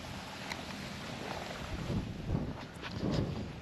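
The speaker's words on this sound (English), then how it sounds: "Sorry for the wind noise, it's very windy." Steady wind buffeting the microphone outdoors during storm chasing, a low rumbling roar that swells in gusts toward the end, with no voices.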